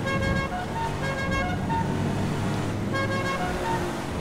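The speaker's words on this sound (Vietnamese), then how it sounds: "cái tiếng kèn xe này nghe là muốn quê rồi đó nha" A car horn in GTA V plays a melodic tune, a steady run of bright repeating tones over constant engine and road noise from the in-game car, fairly loud and continuous with no talk.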